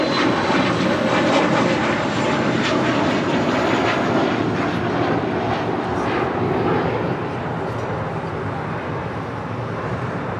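An EVA Air Boeing 777 jet rolls down the runway on its takeoff run, a loud, steady broadband engine roar that holds for about seven seconds and then eases slightly, with no voices over it.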